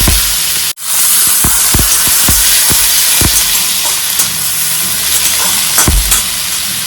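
Soaked moong dal sizzles in hot oil with cumin seeds and chopped green chili, a steady bright frying hiss with scattered pops and crackles, a brief drop near the start, then continuous close sizzling alone.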